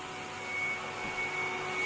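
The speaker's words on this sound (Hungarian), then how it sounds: "az van, hogy porszívózik" A household vacuum cleaner runs steadily with a constant whine and hum, alone and continuous, in a home powered by a solar inverter and battery system.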